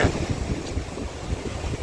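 Blustery southwest monsoon wind rumbles against the microphone in a steady, low buffeting roar, with a faint wash like nearby water beneath it.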